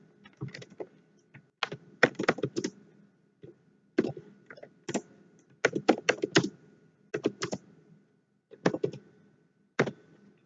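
Fingers tap a computer keyboard in bursts of quick, close clicks with short pauses between runs, and the room is otherwise quiet.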